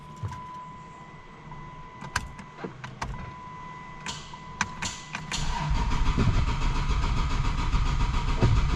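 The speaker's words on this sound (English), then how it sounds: "Okay, so I'm gonna go ahead and start it." A 2JZ engine swapped into a Chrysler 300 turns over after a series of clicks and taps, catches around the fifth second and settles into a louder, steady close-up idle.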